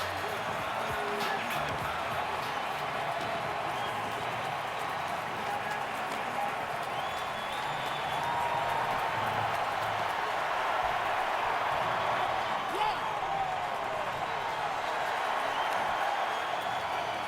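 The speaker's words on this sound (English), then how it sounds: "How about this Brewers crowd rising in unison, almost imploring their team to make a comeback." A Brewers baseball crowd at a playoff game against the Cardinals keeps up a sustained distant roar after a home run, steady cheering with scattered claps running throughout.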